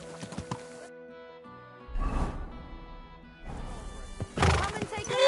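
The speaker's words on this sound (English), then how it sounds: "that looks like a bloody expensive horse" A horse in the medieval video game Kingdom Come 2 neighs in loud bursts near the middle and end, with clip-clop hoof sounds and a voice talking over it.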